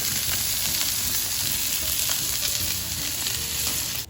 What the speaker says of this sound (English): We just gave these burgers a flip